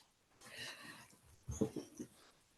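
A dog whimpers and wheezes nearby, soft breathy whines followed by a few short higher whimpers, fairly quiet in an indoor setting.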